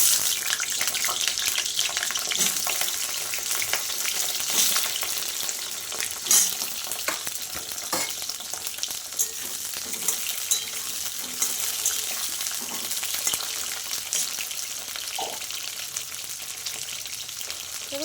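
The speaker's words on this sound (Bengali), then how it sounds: "ওই তেলেই একবারে আমি পটলটাও ভেজে নেব" Pointed gourd (potol) fries in hot oil with a continuous bright sizzle and crackle, close and steady for the whole stretch, with occasional faint clinks and no talking.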